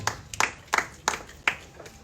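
A church congregation applauds after a call to acclaim the word of God, with several separate bursts of handclaps close by and no talking.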